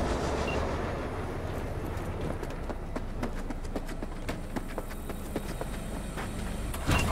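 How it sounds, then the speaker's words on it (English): Train leaving a station in the video game Cyberpunk 2077, a dense rumbling roar with rapid rhythmic clattering of wheels on rails, loud and steady throughout. "the train's leaving"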